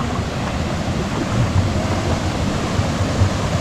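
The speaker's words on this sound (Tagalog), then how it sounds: "Yun, waterfalls." Waterfall at Bayabas Dam in Bulacan, Philippines, a steady broadband roar of falling water, loud and continuous without a break, with no voices over it.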